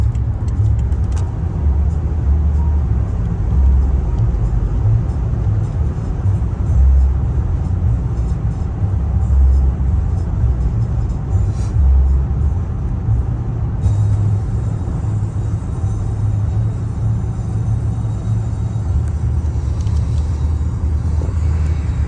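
A 2011 Rolls-Royce Ghost with a 6.6-litre V12 cruises on the road, its cabin filled with a steady low rumble and road noise, smooth and unbroken throughout.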